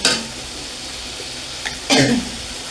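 Cashews and cashew nuts (kathbadam) frying in a pan for a Bengali moong dal dish, a steady soft sizzle with a few brief stirring scrapes and a louder burst of sizzle near the end.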